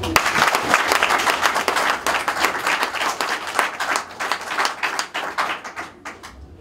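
An audience at a Congolese political gathering, welcoming a member of parliament, applauds loudly with dense, sustained clapping for several seconds before it thins out and tapers off toward the end.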